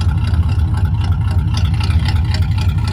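A 1936 Ford Deluxe Roadster idles steadily with a deep, continuous low exhaust rumble, loud and close, with a faint rhythmic pulsing throughout.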